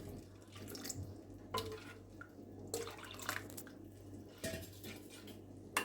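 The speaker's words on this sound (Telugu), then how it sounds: "మనకి చింతపులుసు పులుపుని బట్టి వాటర్ యాడ్ చేసుకోవాలి" Water is poured into a tamarind mixture for a raw tamarind soup, heard as several short, faint splashes and trickles separated by quiet gaps.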